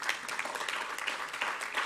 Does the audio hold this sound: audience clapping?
yes